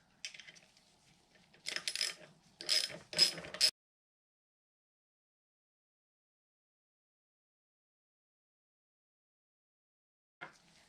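A 7/16 wrench ratchets nuts loose on a Mercruiser Alpha 1 Gen 1 outdrive, giving bursts of close, rapid metallic clicking over a few seconds, then silence and a brief final click.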